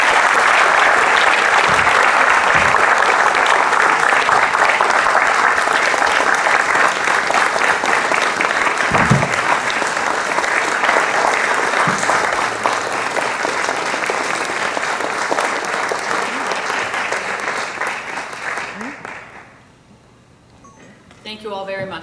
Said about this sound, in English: one final round of applause for all of our performers tonight